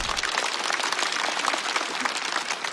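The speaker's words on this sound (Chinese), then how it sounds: "再次掌声送给 TZ" A live stand-up comedy audience applauding a comedian at the end of his set, dense steady clapping from a large crowd throughout, close and even.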